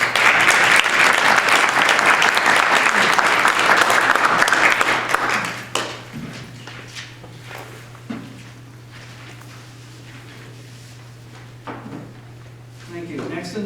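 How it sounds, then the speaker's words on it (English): A board meeting audience gives a round of applause, loud dense clapping for about six seconds that stops abruptly, leaving a low hum, scattered knocks and shuffles, and brief speech. "So, round of applause."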